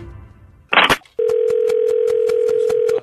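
Steady telephone line tone sounding after a brief burst of noise, holding loud and unbroken through the rest of a phone call.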